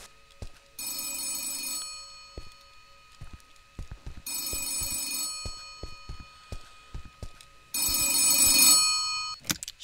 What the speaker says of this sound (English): No, you'd think the phone would stop.